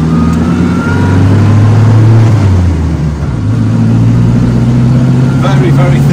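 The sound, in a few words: Renault 4CV old car engine pulling out of a junction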